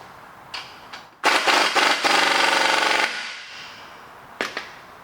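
An impact wrench tightens the nut on a 5th generation Camaro spring mount, a few short taps followed by a loud, close two-second rattling burst, then a fading mechanical whir and a final clank.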